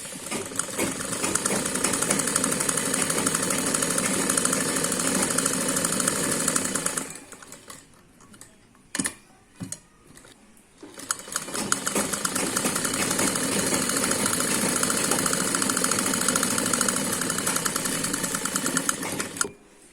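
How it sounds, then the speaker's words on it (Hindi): A sewing machine stitches the neck of a long umbrella frock, running loud and steady for about seven seconds, stopping for a few seconds of clicks and handling, then running continuously again until near the end. "अब हम इसकी गले की सिलाई करेंगे"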